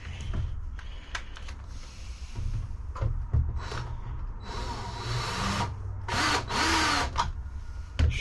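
A power drill drives a screw into a wooden pallet bar at close range, its whine rising and stalling in several short bursts with pauses between, alone without talk.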